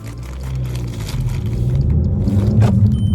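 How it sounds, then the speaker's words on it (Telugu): A 2024 Maruti Ertiga car running on petrol, heard from inside as a smooth, low, steady engine hum that swells slightly louder, with a faint rattle near the end and no talk. "ఇంజన్ నాయిస్ అయితే చాలా స్మూత్గా ఉంది ఫ్రెండ్స్."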